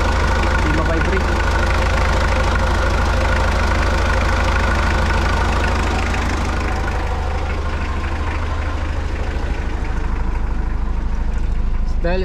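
A vehicle engine idles steadily with a deep, constant low hum and little vibration; the idle continues throughout under someone talking over it, and it sounds quiet and smooth despite the vehicle having sat unused for a long time.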